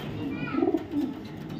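A large pigeon coos softly at close range in one brief, low, rolling call, with faint background noise around it.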